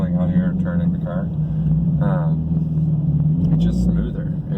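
A Toyota GT86 with an OFT tune exhaust rumbles at low revs while pulling out and turning, a steady close engine drone heard from inside the car as someone talks over it.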